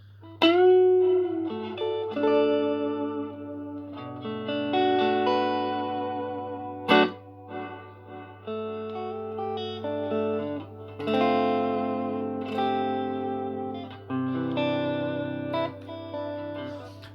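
An electric guitar plays through an Electro-Harmonix Canyon delay pedal set to reverb mode: sustained chords and single notes ring out with long washy tails, some struck harder with slight grit, and there is no talking.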